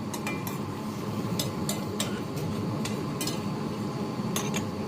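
A metal utensil clinks and scrapes against a pot in irregular taps, stirring boiling chicken tinola soup with potatoes over a constant bubbling, simmering background.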